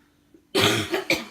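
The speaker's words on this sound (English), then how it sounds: "we're both coughing still" A couple of harsh coughs close up, a short burst followed by a second quick cough, with quiet background before.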